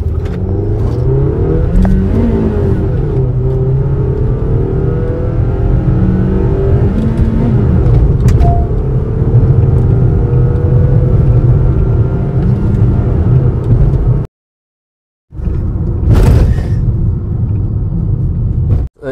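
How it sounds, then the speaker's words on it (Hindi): A large camping car accelerates from standstill toward 100 km/h on an empty road in first gear and upward, its engine rising in pitch through several gear changes, loud and close inside the cabin, with a brief dropout near the end. "जब भी मैं गाड़ी चलाता हूँ 0 से लेकर 100 का स्पीड कितने सेकंड्स में पहुँचता है मैं दिखाता हूँ"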